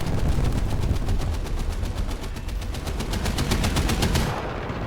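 Rapid machine-gun fire in War Thunder from the Spade CM52 anti-aircraft vehicle, a dense, loud, evenly spaced burst running for several seconds before cutting off abruptly.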